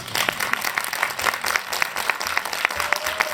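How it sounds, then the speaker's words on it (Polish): A crowd applauds steadily, many hands clapping in a dense, continuous patter with no talking over it, for a parish choir in Skierniewice, Poland. "Brawa dla nich."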